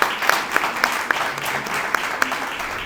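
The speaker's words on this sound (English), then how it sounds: "Let's give Faye a round of applause." Audience applause at an awards ceremony, a steady wash of clapping from a crowd with a few sharp, closer claps popping out at regular intervals.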